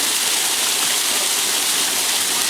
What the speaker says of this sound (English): That is a lot of water coming down.